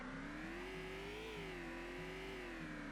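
A car engine in the video game Vein revs steadily while rolling downhill, a sustained droning whine with a slowly wavering pitch, loud and alone with no talk.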